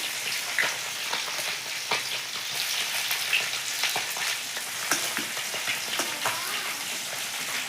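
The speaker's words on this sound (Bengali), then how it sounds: "শাক ভাজার জন্য কড়াইতে একটু দিয়ে দিচ্ছি পেঁয়াজ" Onion frying in oil in a wok for cooking greens, a close, continuous crackling sizzle with scattered pops and light stirring clinks, no talking.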